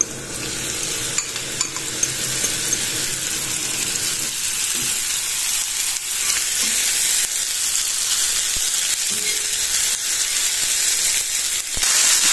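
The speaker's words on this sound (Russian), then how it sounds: "На разогретую сковороду добавляем масло подсолнечное и отправляем туда наши грибочки." Mushrooms fry in sunflower oil in a heated pan, giving a steady, close sizzle and crackle that runs throughout, with occasional scrapes and clicks from stirring.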